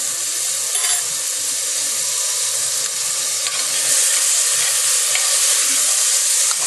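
Carrots, celery and garlic sizzle steadily in a hot pot, a continuous bright frying hiss with faint crackles and a brief stir, close and alone with no talk.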